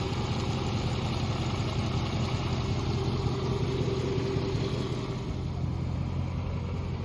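A straight-piped 2002 Mercedes CLK430 that had sat for a couple of years runs at a steady idle, a loud, continuous low rumble with a throbbing exhaust pulse and a slight dip near the end.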